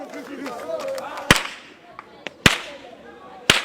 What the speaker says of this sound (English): It is Ukpasha, a specially designed whip which produces a gunshot-like sound that sends the children into frenzy.